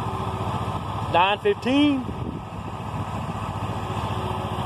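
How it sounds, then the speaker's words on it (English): A lawn mower engine runs steadily during yard mowing, a constant close drone that continues under a brief burst of talk. "I'm out here mowing on a Sunday"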